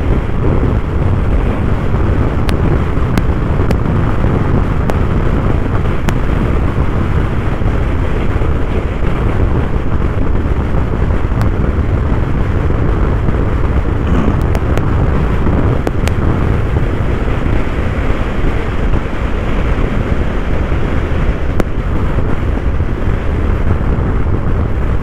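Steady, loud wind buffeting the microphone while riding a Moda Sporter S scooter up the road to Genting Highlands, a continuous low roar with no gaps.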